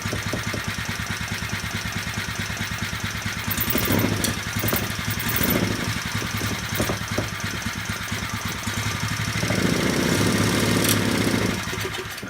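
A small Harbor Freight 2 hp generator engine runs close by, a steady rapid chugging idle with a knocking edge, holding at an even loudness throughout.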